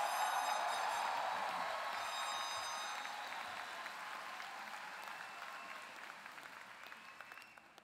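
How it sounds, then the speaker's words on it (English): An audience at a UCI Engineering ceremony breaks into sustained applause, a dense, even wash of clapping that starts strong and slowly thins and fades toward the end. "Give yourselves a round of applause."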